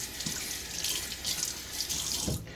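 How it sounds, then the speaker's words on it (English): A shaving soap puck is rinsed under a running tap, giving close, continuous splashing water with a few brief uneven bursts as it is turned in the stream. "I'm going to take the soap puck, rinse off the sides of it."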